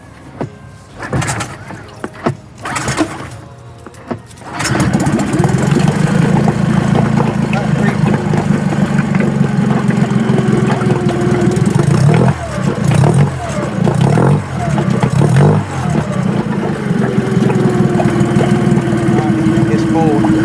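A dinghy outboard engine fitted to a Highfield CL310 dinghy starts after a few clanks and settles into a loud, steady idle close by, with voices talking over the running motor.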